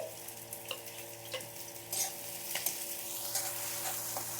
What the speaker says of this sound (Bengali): পেঁয়াজ আর রসুনটা আগে আমি একটু বেরেস্তা বানিয়ে নেব একটু ভেজে নিচ্ছি